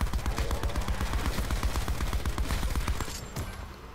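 An LMG in Black Ops 4 Zombies fires a loud, continuous rapid stream of shots at a steady rhythm for about three seconds, then cuts off into a fading tail.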